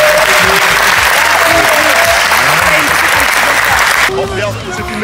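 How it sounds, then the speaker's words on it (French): A crowd at a powerlifting event applauds the team loudly and steadily, the clapping close and dense, with voices talking over it; the applause thins out near the end. "on peut les applaudir très fort"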